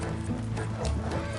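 Horses clip-clopping along a road in Red Dead Redemption 2, a steady run of hoofbeats under a low rumbling backdrop, close and moderately loud.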